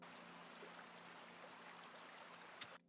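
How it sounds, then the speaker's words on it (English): Waterfall ambience layered into a drum and bass track, a faint, continuous rushing wash of water with a soft low hum underneath, very quiet and subtle, cutting off abruptly at the end. "I've layered a waterfall."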